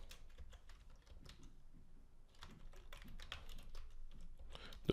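Clicky keystrokes on a computer keyboard as ESP32 Wi-Fi code is typed, arriving in quick irregular bursts with short pauses, close and fairly quiet, with no talking.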